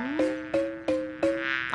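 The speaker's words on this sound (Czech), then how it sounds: "O, zase to bzučení. Jde to z téhleté červené kytky." In a dubbed cartoon, a bee buzzes near a red flower in four quick, evenly spaced pulses of a clear, humming drone, close and fairly loud with no talk over it.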